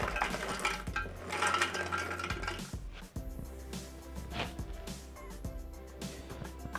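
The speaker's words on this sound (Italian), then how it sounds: "Mettiamo all'interno del boccale i nostri amaretti." Amaretti biscuits are tipped into a Thermomix bowl, with close clattering, rattling and scraping of dishes and utensils, then a few lighter knocks.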